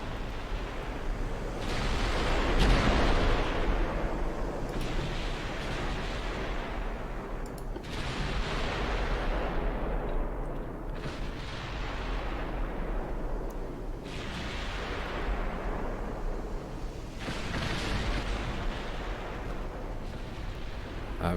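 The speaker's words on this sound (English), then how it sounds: "Letting loose quite a few salvos before the game even dropped down to ×5 game speed" Naval artillery salvos in Ultimate Admiral Dreadnoughts, a series of heavy booming blasts about every two and a half seconds, each trailing into a long rumbling decay over a constant low roar.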